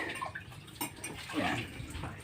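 Hot water poured outdoors while food is served, a splashing, bubbling stream of middling loudness over about two seconds, swelling midway, with faint voices nearby.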